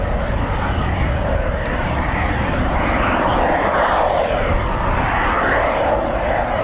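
A Eurofighter Typhoon FGR4 jet flies past at an RAF anniversary flypast, a loud continuous roaring rumble that holds steady for several seconds with a broad, rushing tone.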